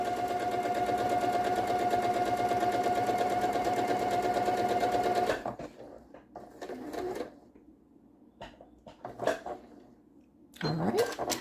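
A sewing machine runs steadily for about five seconds, stitching quilt pieces with a 1/4 inch seam, a loud even whirring hum, then stops, followed by quiet handling clicks and rustles.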